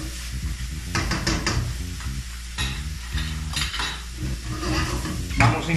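Fried rice with carrot and pieces of omelette is stirred in a sizzling wok, with a loud continuous fry and a utensil scraping and tapping the metal in bursts, close up and with no talk.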